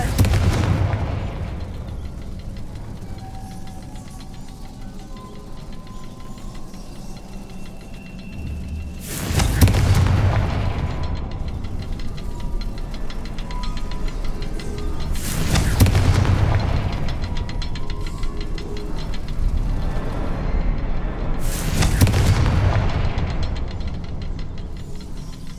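Confringo fire-blast spells in Hogwarts Legacy go off as three loud, booming explosions about six seconds apart, each with a deep rumbling tail over steady game ambience.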